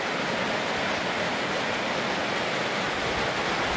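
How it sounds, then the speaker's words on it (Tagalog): Heavy rain pouring down in a dense, unbroken hiss, loud and close, with no voices over it. "malakas pa yung ulan"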